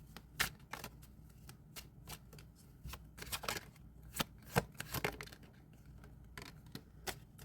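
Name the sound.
shuffling cards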